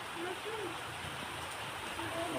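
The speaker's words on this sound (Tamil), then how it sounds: "மழை பெய்யுது." Rain falls steadily outdoors, an even close hiss of drops lasting throughout while a voice speaks quietly underneath.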